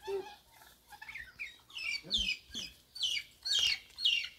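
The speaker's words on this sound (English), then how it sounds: "Turkeys!" Several turkeys gobble and cluck in a run of short calls, fairly close outdoors, rising and falling one after another without speech.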